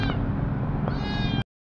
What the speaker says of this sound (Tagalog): Dito ko po nilalagay po yung mga pusa.